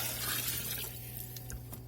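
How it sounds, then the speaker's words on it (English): Water splashes and pours steadily into a bowl inside a smoker, with a low hum running underneath. "I'll give us some water in this bowl."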